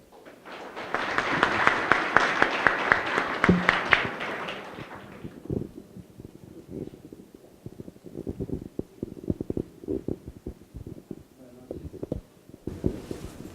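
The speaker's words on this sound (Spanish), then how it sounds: "les pido un aplauso para él" Audience at a medical ultrasound lecture session gives a round of applause that swells and fades over a few seconds, followed by quieter scattered handling noises and faint sounds.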